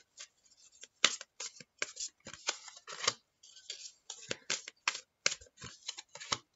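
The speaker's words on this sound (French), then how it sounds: "alors, je vais tirer trois cartes." Tarot or oracle cards being shuffled before three are drawn, with quick close riffling and slapping bursts in an uneven rhythm, soft and alone without talk.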